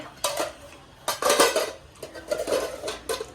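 Dishes and cutlery clink at a family meal of dal, mixed vegetables, cabbage curry and rice, in several short bursts of ringing metal-on-plate taps, close and moderately loud with no talking.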